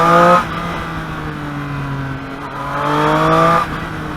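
A Triumph Street Triple 765 motorcycle engine revs on a test ride, its tone rising and falling through smooth pitch sweeps, loud and close with a brief drop in between.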